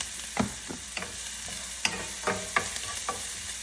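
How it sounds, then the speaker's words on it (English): Ginger and green chili saute in a hot pan, with a steady soft sizzle under repeated scraping stirs of a spatula, close and clear with no talking. "ginger, and green chili and saute them until they are soft"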